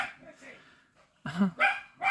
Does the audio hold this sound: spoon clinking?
no